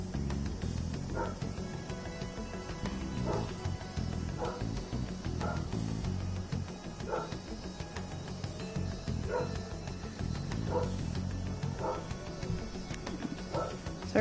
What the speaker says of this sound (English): Sorry about my dog if you can hear him.